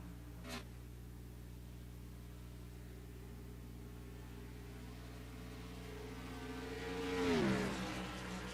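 NASCAR stock cars circle the track in the NR2003 racing game at Pocono: a steady engine drone holds throughout, with one car sweeping close past near the end in a rising, then falling whine.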